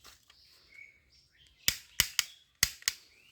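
A toy shotgun fires five sharp, snappy cracks in quick irregular succession, close and loud against a faint background with light chirpy tones.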